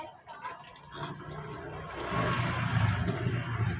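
A water tap runs into a laundry basin, its weak flow splashing softly at first, then growing fuller and louder as the basin fills, with some voices faintly in the background.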